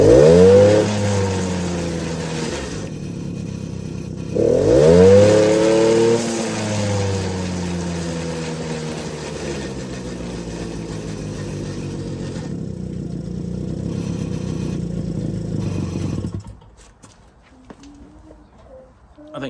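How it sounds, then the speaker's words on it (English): Small Suzuki LT50 quad bike, a barn find, runs after a carburettor adjustment, its engine revving up and settling into a steady idle before cutting out near the end, with someone talking over it. "it seems to idle a bit better now"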